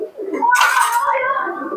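A male Kaldoma pigeon gives one soft, throaty cooing call up close, a short rolling coo that swells and then tapers off, with a faint voice in the background.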